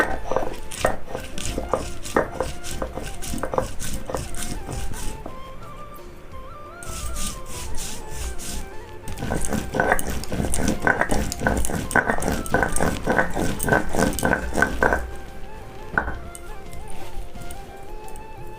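Green chili, a little mustard seed and salt are ground into a paste with quick, rhythmic scraping and pounding strokes. The strokes come in bursts separated by short pauses.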